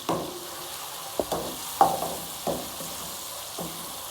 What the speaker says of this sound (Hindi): चिकन को मैंने 2 से 3 मिनट के लिए फ्राई कर लिया है लहसुन के साथ